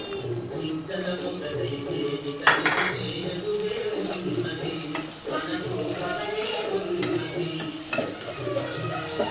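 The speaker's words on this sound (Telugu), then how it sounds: "టమాటాలు వేసేస్తున్నాను" Tomatoes tipped into a hot pan for a coconut-milk drumstick kurma, with steady sizzling and frying under repeated spoon-stirring and clinks of metal against the pan, one sharper knock partway through.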